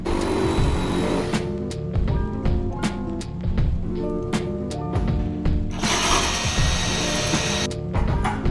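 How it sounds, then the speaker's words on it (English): Hand tools work on a car's fenders with a loud, close, repeated ratcheting and clanking metal mechanism, irregular clicks and bangs continuing throughout. "All right, let's trim some fenders."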